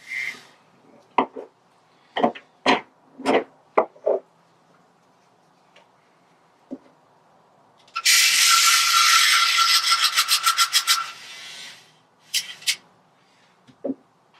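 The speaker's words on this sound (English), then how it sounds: "give this paint a good mix. I'm doing that with my trusty Badger paint stirrer here" A Badger paint stirrer whirs in a small bottle of model paint, a loud buzzing mix of a few seconds preceded and followed by quick clicks and taps.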